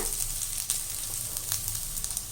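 Chopped onions and asafoetida sauté in hot oil in a pan for a carrot and beans kootu, giving a steady close sizzle with faint crackles and no talking.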